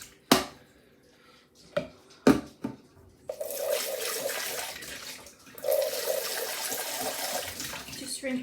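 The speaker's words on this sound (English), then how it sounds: "Just rinse in the jugs just so they're not hard to, you know, bake." Jugs rinsed under running tap water while making cupcakes, a steady broadband rush starting a few seconds in after some clunks and knocks, with a brief pause midway.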